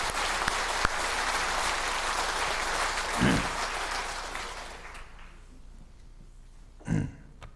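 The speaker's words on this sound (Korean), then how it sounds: "뜨거운 박수를 보내서 치하하시기 바랍니다." A church congregation applauds in a broad, steady burst that fades out after about five seconds, leaving quiet room tone broken by a couple of brief coughs or throat sounds.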